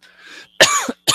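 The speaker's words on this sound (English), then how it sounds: "Sorry for coughing in your ear there." Two sharp, harsh coughs up close, a longer one followed by a quick second burst, after a brief airy throat noise.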